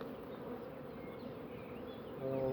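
Dense, steady buzzing of many honeybees at a crowded hive during nucleus colony work, a continuous close drone that swells slightly louder near the end, with no talking.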